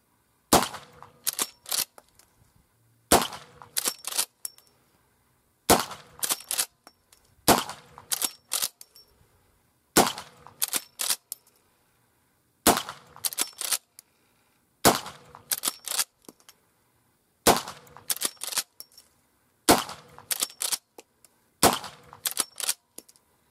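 Marlin Model 1894 lever-action carbine with basic iron sights firing at a 25-yard range, loud sharp shots in repeated clusters of several quick reports separated by short pauses, with no talking.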